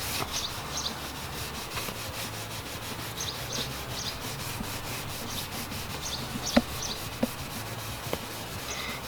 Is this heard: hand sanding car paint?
yes